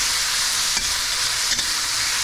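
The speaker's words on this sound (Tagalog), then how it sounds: "Haluin lang na haluin hanggang sa malusak." Tomatoes for salmon miso sinigang cook down in a pot, giving a dense, even sizzle with two soft scraping strokes of a spoon stirring through them.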